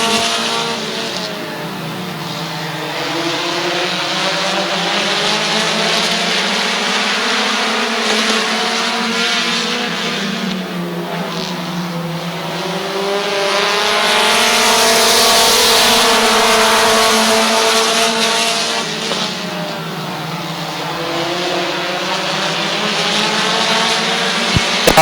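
Race cars roaring around the oval at Midvale Speedway, a continuous loud engine drone with shifting pitch as several cars pass, swelling near the middle and easing off toward the end.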